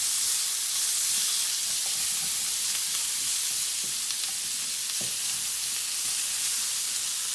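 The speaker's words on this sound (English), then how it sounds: "I'm gonna add a little bit more oil because my garlic seems to be sticking and burning a little bit" Garlic sizzling in oil in a hot pan, a loud, continuous bright hiss with small crackles, heard up close and alone.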